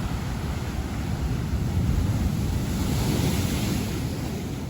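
Sea waves surge and wash steadily along the Bonaire coast in the Caribbean, a continuous close roar of surf with wind buffeting the microphone throughout, no voices.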